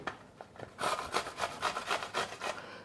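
Cucumber rubbed down the large holes of a box grater in a quick series of rasping strokes, about eight close scrapes in a steady rhythm after a quieter start.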